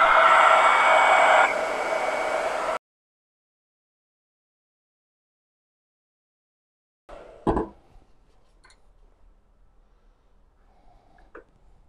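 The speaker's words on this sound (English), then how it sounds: "let me hit this one with a little bit of dryer." A small handheld heat tool blows steadily on freshly applied chalk paste for a few seconds, a loud close whoosh that drops slightly in pitch before cutting off, followed by silence and a few faint handling bumps.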